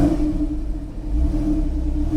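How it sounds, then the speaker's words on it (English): A Porsche 911 Carrera S (997.2) revs with its exhaust valve open, a deep, throaty exhaust roar and a strong low hum, close and loud, rising and falling briefly. "it completely changes the tone of the exhaust"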